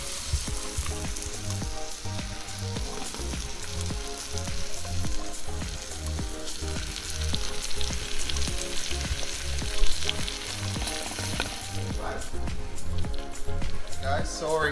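Marinated lamb chops sizzle and fry in a pot for biryani, a dense continuous crackle with steady popping that is a little louder near the end.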